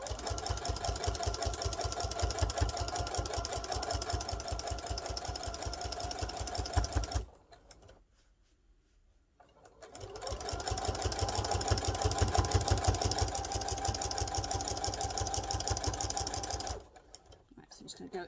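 Sewing machine stitching quilt binding in fast, steady runs, stopping briefly mid-way and then resuming, close and clear with a rapid mechanical rhythm.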